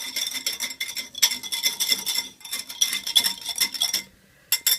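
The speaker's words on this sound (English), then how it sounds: "Now, I always like to use my whisk here." Metal whisk beating salad dressing in a bowl, fast, close, rhythmic clinking and rattling in several quick bursts, then a brief pause before a last short flurry.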